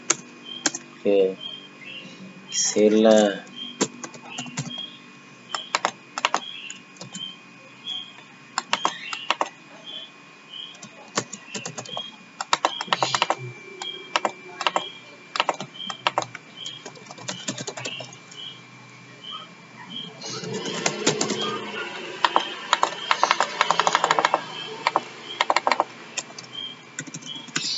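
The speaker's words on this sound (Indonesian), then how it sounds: "sekarang kita ketik Fauzan" Computer keyboard typing while entering data into Microsoft Excel: scattered bursts of quick, close clicking keystrokes, with pauses and brief spoken words in between.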